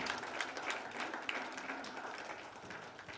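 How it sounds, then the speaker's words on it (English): Applause from an audience greeting a panelist at a finance event, a steady wash of many hands clapping at moderate distance, fairly faint and continuous throughout. "Big round of applause for Mr."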